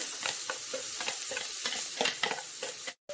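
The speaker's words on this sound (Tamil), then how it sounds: "கொஞ்சம் எண்ணெய் ஊற்றிக்குவோம் சாப் பண்ணி வச்சுருக்கிற ஆனியன் இதில் போட்டுக்குவோம்" Chopped onion frying in hot oil in a pan for egg curry, a steady close sizzle with repeated scraping and stirring strokes throughout, then a brief cut near the end.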